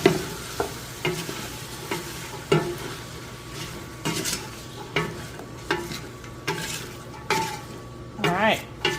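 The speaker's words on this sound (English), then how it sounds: "And give it a stir." Oyster stew with potatoes, a couple of pinches of salt and one bay leaf is stirred in a pot. A spoon scrapes and clinks in a steady repeating rhythm over a low simmering sizzle, close by.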